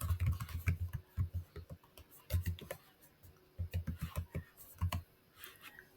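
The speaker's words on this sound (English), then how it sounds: "I'll just type over this." Keys clack on a computer keyboard in short bursts of quick, close typing separated by brief pauses.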